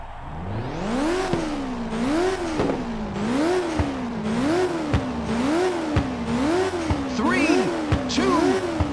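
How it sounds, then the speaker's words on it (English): Race car engines in the Ridge Racer PSP game rev up and down in a steady rising-and-falling rhythm, loud and continuous, with a brief tire-squeal-like flourish near the end. "All right, it's time to fire up those engines."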